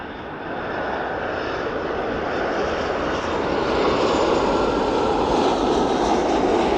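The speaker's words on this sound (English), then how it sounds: "Touching down. West Atlantic ATR right in the distance." A West Atlantic ATR turboprop touching down at East Midlands Airport in the evening gives a steady, distant propeller drone that slowly swells in loudness, with no voices over it.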